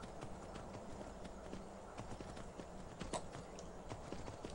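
Horse hooves in the video game Skyrim, a steady clip-clop of galloping steps over a constant bed of ambient noise, moderately faint and continuous.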